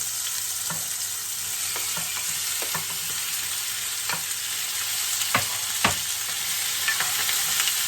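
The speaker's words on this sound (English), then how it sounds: "So I'm going to stir fry this up." Food stir-fries in a pan with a strong, steady sizzle, and a sturdy spoon scrapes and knocks against the pan in irregular bursts. No one speaks.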